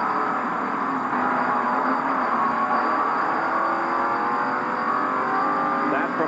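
Race car engine of Kyle Petty's car, heard from the in-car camera at the 1990 Heinz Southern 500 NASCAR race, droning loud and steady at high revs without a break, with a faint voice over it.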